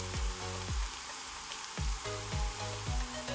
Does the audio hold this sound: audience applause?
no